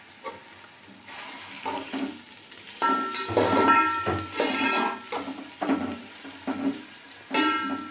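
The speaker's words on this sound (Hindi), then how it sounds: "प्याज को हम अच्छे तरीके से ब्राउन कर लेंगे, जिस तरह हम चावलों के लिए ब्राउन करते हैं।" Chopped onion browning in a pan for keema pulao, with a steady close sizzle and watery crackle that swells and fades as it is stirred, no voices.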